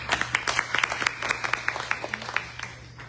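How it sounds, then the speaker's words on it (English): Sparse, scattered clapping from a small audience at a city council candidates forum in Katy, individual claps fairly close and thinning out toward the end. "Let's get a round of applause."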